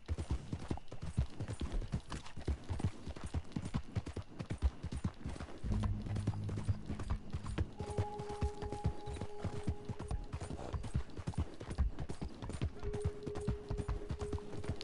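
Horse hooves clip-clop in a fast, steady gallop rhythm through the Red Dead Online game world, close and continuous, with brief game tones and music sitting under the hoofbeats.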